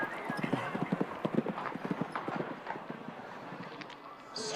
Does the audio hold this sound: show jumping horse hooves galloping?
yes